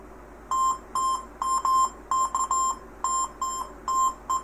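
A Minelab Go Find 60 metal detector, its sound played through a phone, answers a quarter with a series of short, sharp electronic beeps in an uneven rhythm, loud and close, with no speech.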